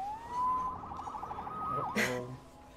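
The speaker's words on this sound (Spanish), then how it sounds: "Salvado por la sirena." A police siren in the Spider-Man PS4 video game wails in a rising, wavering sweep, then cuts off with a short sharp burst, loud against a low background hum.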